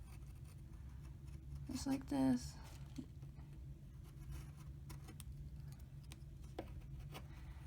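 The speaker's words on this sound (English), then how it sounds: "You kind of have to use an X-Acto knife for this." An X-Acto craft knife traces and cuts through cardboard for a custom Amiibo box, making a brief, quiet scratchy scraping burst in a hushed room while a person talks softly.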